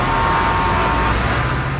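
Noisy road traffic during a commute, a loud dense rumble of nearby engines with a sustained horn-like tone running through it, continuous for under two seconds.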